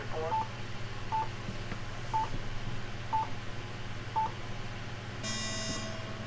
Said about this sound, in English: Machine alarm.